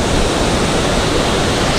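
Turbulent ocean surf breaks and churns at Muriwai beach, a dense, steady roar of crashing waves filling the whole clip, loud and close with no pauses.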